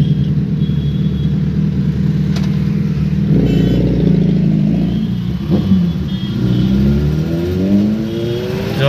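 A Suzuki Hayabusa motorcycle engine revs loud and close near a Mayapuri street, with sustained engine roar that rises and swells steadily throughout, no talking heard.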